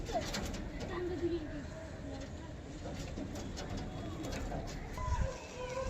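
A male pigeon coos repeatedly after being released, the coos mixed with other birds and busy background noise, with people talking over them throughout.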